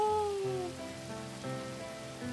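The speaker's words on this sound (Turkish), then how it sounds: "Gerçekten yağmur." Rain falls in a soft, steady patter, quiet and continuous, with faint tonal sounds layered over it.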